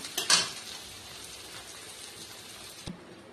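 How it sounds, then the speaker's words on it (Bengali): An ingredient marinated in salt and turmeric fries in a pan with a soft, steady sizzle. A brief clatter of a utensil sounds near the start and a knock near the end, with no talk. "এটাকে আগে নুন হলুদ দিয়ে মাখিয়ে রেখেছিলাম, এবার লাল করে ভেজে নেব।"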